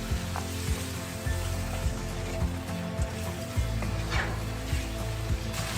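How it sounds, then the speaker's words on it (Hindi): Chicken masala sizzles in a pan as half a cup of whisked yogurt is stirred in for a chicken khao suey curry. The frying is steady, with regular stirring scrapes. "अब इसमें डालें हाफ कप दही हिंडी हुई। इसको अच्छी तरह से मिक्स करें।"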